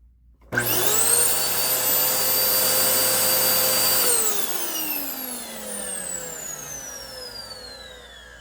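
A Dyson vacuum cleaner without its cyclone attached switches on and whines up to a loud, steady high-pitched roar, then the motor pitch drops as it winds down.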